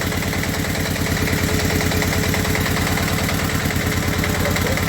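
Tractor or machinery engine idles steadily while a repaired TsS75 hydraulic cylinder is tested on lowering, a close, loud, even low rumble with rhythmic pulsing throughout and no talk.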